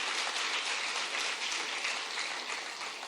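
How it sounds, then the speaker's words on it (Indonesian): Congregation applauding during a church service, a dense steady wash of clapping held evenly for a few seconds with no voices over it. "Berikan tepuk tangan bagi Tuhan kita"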